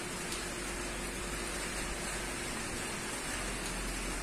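Steady rain falls in Paraná, Brazil, after a long dry spell, a constant even hiss of drops on the ground with no breaks, fairly quiet and unaccompanied by voices.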